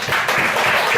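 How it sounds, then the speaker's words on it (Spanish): Congregation applauding at a church service, a short burst of dense clapping that is close and loud throughout. "Démosle un aplauso, hermano"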